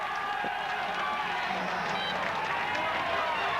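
A roadside crowd at the Tour de France cheers continuously as a rider passes, a dense, steady roar of voices and whistles that stays loud throughout, with speech mixed in.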